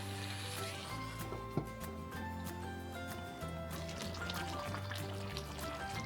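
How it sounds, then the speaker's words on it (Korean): Korean braised chicken stew (dakbokkeumtang) with onion bubbles and sizzles in a pot, a steady close hiss broken by a few small pops. A low hum runs underneath, and no one talks. "이렇게 양파 넣고 5분만 더 끓여줄게요"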